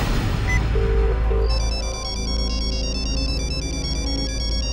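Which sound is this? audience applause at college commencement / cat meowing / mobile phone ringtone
mobile phone ringtone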